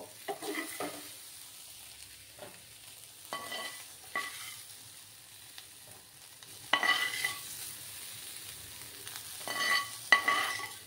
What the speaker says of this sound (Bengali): সয়াবিনগুলো ভাজা হয়ে গেছে, এবার আমি তুলে নিচ্ছি।